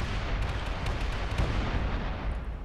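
Rocket impact explosion on a ship in Space Engineers, a dense roaring rumble of blasts with repeated booming bursts, loud and sustained.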